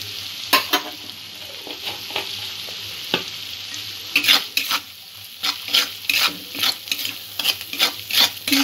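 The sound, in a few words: frying spices with coriander powder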